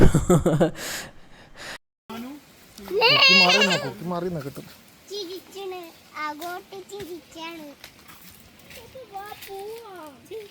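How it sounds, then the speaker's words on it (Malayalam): A Jamunapari goat bleats in wavering, repeated cries, with a voice and gasps mixed in close by. "ഈ ഒരു ആട് ഇത് ജമുനാപ്യാരി എന്ന് പറഞ്ഞ ആ ഒരു വെറൈറ്റി ആടാണ്"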